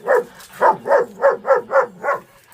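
A dog barks seven times in a steady rhythm, loud and close by, with a short gap after the first bark and no other voices.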